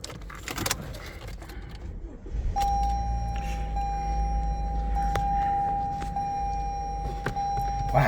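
A Toyota RAV4 with about 137,764 km on it starting up: keys rattle and a click, then the engine catches and settles into a steady low idle rumble with a faint electronic tone above it.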